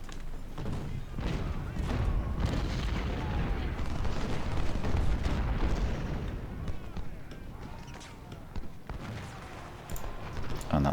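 Cannon artillery in a Civil War battle strategy game, Ultimate General: Civil War, booms in a dense, continuous barrage of thuds and rumbling volleys, moderately loud, thinning toward the end.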